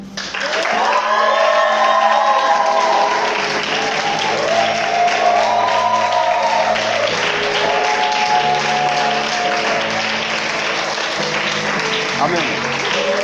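Congregation at a French-language church service cheers and applauds loudly, sustained clapping mixed with shouting and sung or voiced tones that rise and fall for over ten seconds.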